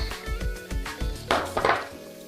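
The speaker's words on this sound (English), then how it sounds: "I'm just trying to get everything mixed together" A spoon stirs crushed macadamia nuts through a thick butterscotch lush filling in a bowl, giving a run of close, thudding scrapes and knocks in a steady rhythm, followed by a couple of brighter, wetter swishes.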